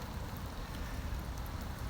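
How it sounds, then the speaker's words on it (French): Light rain falling steadily outdoors, a soft continuous patter with no voices. "Là, c'est vraiment petite pluie."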